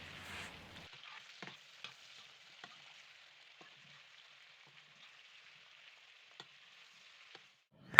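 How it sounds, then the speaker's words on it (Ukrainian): Meat and onion sizzling in a frying pan with a steady quiet hiss, broken by occasional light taps and scrapes of stirring, ending in a sharp clatter. "Як бачите, все нарізається поступово і зразу обсмажується."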